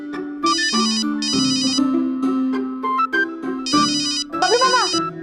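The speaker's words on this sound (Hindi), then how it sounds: "फोन उठाइए, फोन बज रहा है।" A phone ringtone plays a bright repeating electronic melody in bursts with short gaps, loud and close, with voice-like tones mixed in among the rings.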